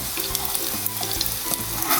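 Chicken pieces fry in hot oil with a steady, close bubbling sizzle and dense crackle, and no one speaks over it.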